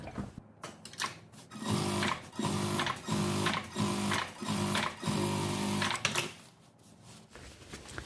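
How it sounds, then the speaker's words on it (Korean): An electric sewing machine runs in bursts, stitching a windbreaker jacket sleeve; about five rapid rhythmic runs of needle chatter, close and fairly loud, separated by short pauses, with no talking. "이쪽으로 밑으로 스티치 한번 합니다."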